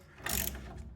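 Ratcheting clicks from a wrench working a bolt loose on the front lower control arm of a VW Mk1 Rabbit/Golf, a short close burst of metallic ticking followed by quieter mechanical sound.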